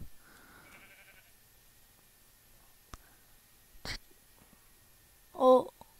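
A Minecraft sheep gives a single short, nasal bleat near the end, following a few faint clicks and taps in an otherwise quiet survival game scene.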